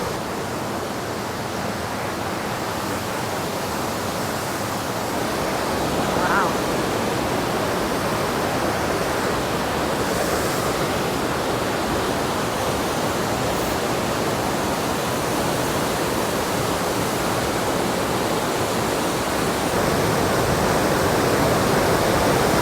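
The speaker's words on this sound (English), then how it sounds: "this almost looks like it's an outlet for the water that ran through the powerhouse" Water rushing steadily out of an old powerhouse outlet toward the Deschutes River at historic Tumwater, Washington, a dense, continuous roar heard close and alone for the whole stretch.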